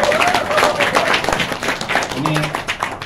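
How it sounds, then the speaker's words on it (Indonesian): Group clapping for a shared achievement at a youth political gathering, a few seconds of steady moderate applause with voices mixed in. "Mungkin kita bisa sama-sama tepuk tangan ya buat pencapaian kita ini ya."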